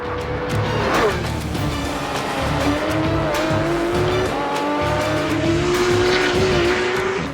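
Porsche 911 GT3 with a new-family engine of 475 horsepower that revs to 9,000 RPM and a PDK gearbox, running hard on a race track. Loud and close, with a steady high engine note whose pitch climbs through the gears, plus tire squeal, alone without talk.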